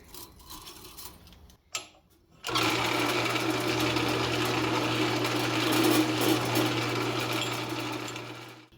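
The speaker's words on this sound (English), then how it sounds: "Now I'm going to go grab my countersink bit and just chamfer the edge of those holes, get rid of the burrs" A drill fitted with a countersink bit chamfers the edges of drilled holes in wooden blocks for a bed rail rod rack, a steady close whirring hum running continuously for several seconds after a brief pause.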